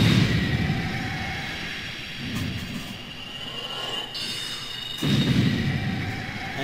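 Soul Spear spells cast in Dark Souls against a row of enemies, with deep booming blasts and whooshing surges recurring a few times over rumbling game ambience, no talking.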